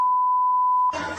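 A steady, loud electronic censor bleep held alone for almost a second, masking profanity shouted by a man angry about service at an appliance company's service center, followed by a brief burst of noisy sound.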